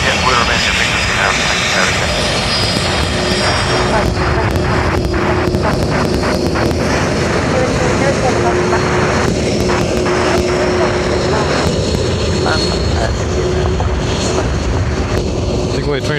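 A propeller aircraft drones steadily on approach at Dublin Airport in high wind, a loud continuous engine roar mixed with gusting wind, with voices talking over it.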